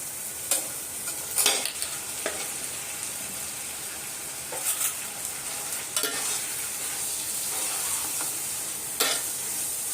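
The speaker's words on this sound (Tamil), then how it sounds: "இப்போ இது கூடயே நம்ம தக்காளியை சேர்த்துக்கலாம்" Tomatoes sizzling and frying in a pan for country chicken biryani, with a steady crackle and intermittent scraping stirs, close and alone without talk.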